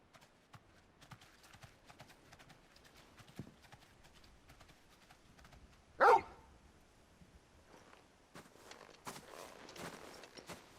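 Torgal the dog in Final Fantasy XVI barks once, loud and sharp midway, against a quiet backdrop of clip-clopping hooves and scattered footsteps.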